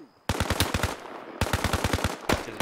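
Rapid automatic-weapon fire from the video game Arma Reforger rattles out in two long bursts, then a shorter third, each shot a sharp close crack in a fast, even rhythm.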